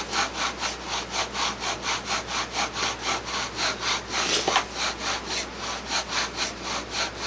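Bow drill spinning on Guanacaste (Enterolobium cyclocarpum) wood, a rhythmic rasping friction that rises and falls with each stroke of the bow, about two strokes a second, close and steady, with one sharper scrape partway through.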